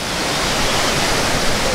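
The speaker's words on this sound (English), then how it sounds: "The waterfall, I mean, it's not a waterfall, it's just a water flowing." Steady broadband rush of water flowing in a park in Croatia, a continuous loud wash with no talking.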